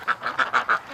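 Farm-bred ducks quack five times in a quick, evenly spaced series, close and clear with nothing else behind them.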